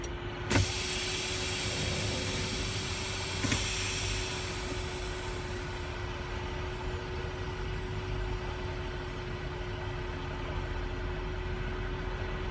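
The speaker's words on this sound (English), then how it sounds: "I'm going to go ahead and remove my spring brakes" Sharp pneumatic hiss and click as a truck's spring brakes are released, followed by a second brief burst, then steady engine idle with a fading air rush.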